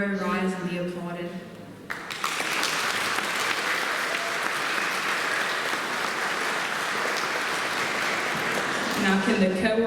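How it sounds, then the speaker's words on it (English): Sustained applause from an audience at a lab coat ceremony, a dense steady clapping that starts abruptly after a brief spoken introduction and continues loudly for most of the clip before talk resumes at the end. "May the third row rise and be applauded."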